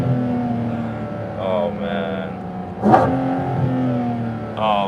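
A Porsche 718 Cayman GT4 RS engine drones steadily and revs, with a sharp burst near the middle like a quick gear shift; a man briefly exclaims over it.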